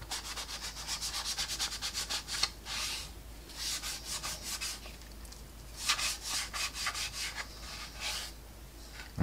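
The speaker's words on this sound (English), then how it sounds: "just rubbing it off with a bit of paper towel" A paper towel rubs weathering off a 1/48 Revell Eurofighter Typhoon scale model kit, making close, scratchy strokes in quick rhythmic runs with short pauses between them.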